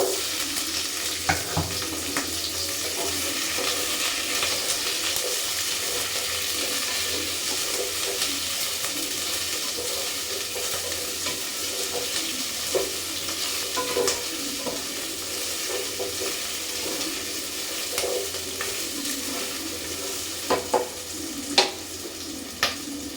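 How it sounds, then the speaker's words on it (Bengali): Chopped onions sizzling in a pan for a white chicken dish, with a continuous loud frying hiss and occasional stirring scrapes, heard up close and alone for a long stretch. "পেঁয়াজগুলোকে লাল লাল করে ভেজে নেব।"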